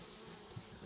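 Honey bees buzz in a steady, dense hum from an indoor hive kept through winter, heard close and continuous.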